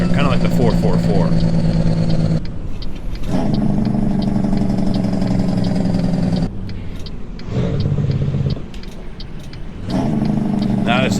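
Kenworth K100 truck engine from American Truck Simulator revs and idles loud and close, with rumbling bursts broken by short drops and gear pauses, and a voice talking over parts.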